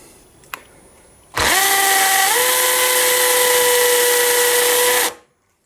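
A power drill whines loudly and steadily for several seconds, its pitch shifting slightly as it bites in, then cuts off abruptly.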